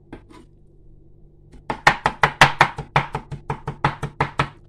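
A knife chops homegrown seasoning on a board in a steady burst of about fifteen crisp, close, evenly spaced strokes. The chopping starts after a short quiet pause, with no talking.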